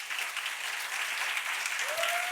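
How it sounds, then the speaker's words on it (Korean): A church youth congregation applauds steadily at worship to welcome a newly appointed member, a dense wash of clapping throughout with a faint tone rising near the end. "우리 큰 박수로 한번 맞이하도록 하겠습니다"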